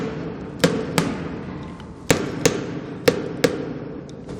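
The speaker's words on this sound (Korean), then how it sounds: "타이어 공기압은 저희가 검사 망치로 이렇게 때려보면은" Sharp metallic taps of an inspection hammer on a tyre above a lift platform, checking its air pressure, six strikes in uneven pairs, each ringing briefly over steady low machinery hum.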